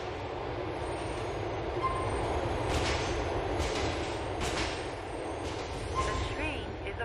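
Subway A train riding through Liberty City in GTA IV: a steady rumbling rattle of wheels on track with periodic clacks and faint squeals, a moderately quiet continuous ride without pauses.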